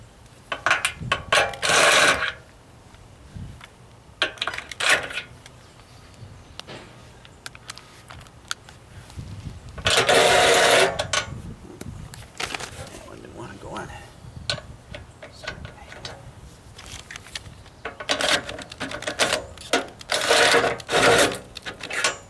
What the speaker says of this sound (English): we got 17 mil socket for the stud extenders